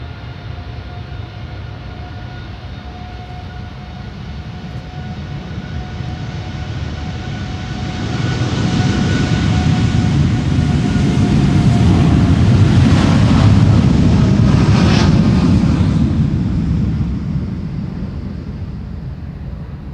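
TUI Boeing 787 Dreamliner jet taking off from Schiphol's Polderbaan runway, its engine roar building from a low rumble to a loud peak midway and holding strong before easing, with faint wind noise and no voices.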